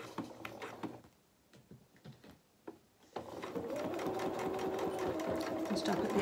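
A sewing machine stitches a dressing gown seam, starting with a short burst and back-stitch, pausing, then running steadily and loudly alone for several seconds.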